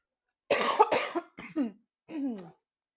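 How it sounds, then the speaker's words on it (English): Several harsh coughs close to the microphone, two quick bursts followed by a couple of weaker, throaty coughs and a pause between them. "I'll stop coughing at you guys now."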